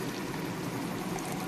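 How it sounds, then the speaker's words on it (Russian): Photo fixer liquid pours steadily into a container for a brief moment, a close, smooth stream. "наливаю внутри."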